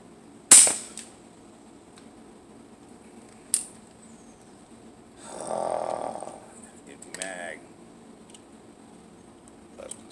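Shots from a Hatsan Tack Driver air rifle, aimed at trainers hanging from a highline wire outdoors: a sharp crack near the start, a fainter one a few seconds later, then some rustling and handling noise.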